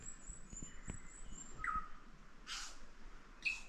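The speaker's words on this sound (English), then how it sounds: "You can hear something squawking, probably a kea" A kea parrot lets out a few sharp squawks in the New Zealand bush of Fiordland, near Doubtful Sound, faint and fairly distant over a quiet wilderness background.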